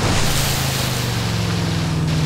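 A car pushing through deep water in the GTA 5 video game gives a steady low rumble with a continuous rushing wash of water, loud and unbroken throughout, with no talking.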